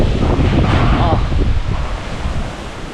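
Strong wind buffets the microphone in loud rumbling gusts, with a brief voice exclamation early on, easing slightly toward the end.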